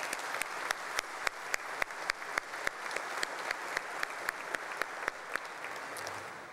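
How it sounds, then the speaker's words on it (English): At a student recognition ceremony during a state energy summit, an audience applauds, a faint, even wash of clapping punctuated by evenly spaced sharper claps that keep a steady beat throughout. "Let's give them a round of applause."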